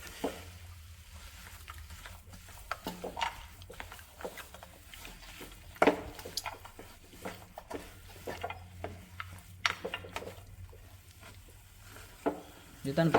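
A spoon scrapes and stirs kesari with cashews and raisins around a pan in uneven, close strokes that click and rasp, over a low steady background hum for about thirteen seconds.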